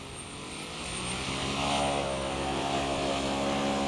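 RC model V-22 Osprey tiltrotor flying forward on a battery-powered test flight, with a steady buzzing propeller and motor drone that swells slightly and holds, continuous and fairly close, with no talking.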